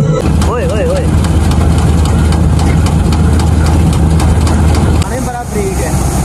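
A tractor engine idles loud and steady with a deep continuous rumble throughout, close by on a farm during harvest work, with voices talking over it.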